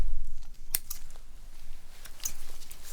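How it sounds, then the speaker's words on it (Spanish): Metal scissors, cold to the touch, handled close up in a quiet room: a couple of sharp, bright snips or clicks, one near the start and another later, between soft low handling noise. "Son unas tijeras de metal, súper frías, obviamente."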